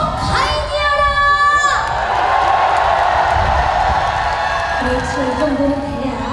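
A festival concert crowd at an outdoor opening show cheers, whoops and shouts loudly, a sustained roar of many voices with high shrieks near the start, and a voice talking over it toward the end.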